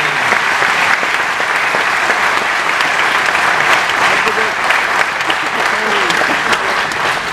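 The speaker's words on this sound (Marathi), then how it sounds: "त्या जोरदार टाळ्या झाल्या पाहिजे." A large crowd at a Marathi talk on Shivaji's leadership applauds loudly and continuously, a dense, sustained roar of clapping filling the whole stretch.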